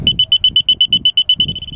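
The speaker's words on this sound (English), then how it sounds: "we also have a test button here for the alarm" The alarm on an aerobic septic system control box is tested, sounding a loud, close, high electronic beep pulsing about a dozen times in quick regular rhythm before holding steady.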